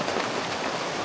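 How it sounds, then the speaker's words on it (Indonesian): Heavy rain pouring on a mountain hiking trail at Bukit Kelir in Purbalingga, a dense, even hiss of downpour filling the moment close around the listener, with no voices. "Hujannya makin parah."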